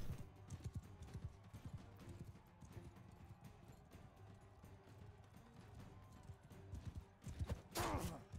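Horse hooves clip-clop at a gallop in the medieval combat game Bannerlord, a quick rhythmic drumming heard fairly close and quiet, ending with a brief burst of louder noise near the end.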